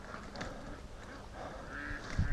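A flock of ducks on a lake, quacking and honking in short, overlapping calls at moderate distance over outdoor background noise.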